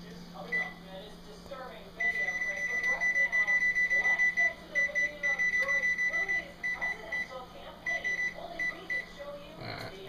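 Oven timer beeping in a run of short electronic tones while being set for baking chicken parmesan in a kitchen, clear and close, with a steady hum beneath.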